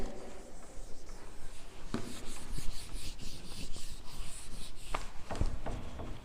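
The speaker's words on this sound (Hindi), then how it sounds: "तो ये रब कर रही हूँ" Erasing pencil writing on paper during a Class 8 maths lesson: steady close scratchy rubbing strokes, continuous with brief pauses, no talking.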